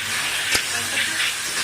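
Boiled chickpeas go into a pan of browned onions and tamarind masala for aloo kabli, giving a brief, loud, close sizzling hiss with a sharp burst in the middle.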